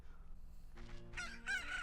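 A hen-like chicken crowing with a cock-a-doodle-doo in Ocarina of Time right after hatching from an incubated pocket cuckoo egg, a few short bright game-sound bursts that rise in loudness toward the end.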